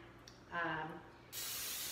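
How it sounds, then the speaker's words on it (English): Pam cooking spray misted onto a muffin tin for blueberry muffins, a steady hissing spray starting partway through and running to the end, close and fairly loud, after a brief voiced sound. "My muffin tin, I just spray it with some Pam."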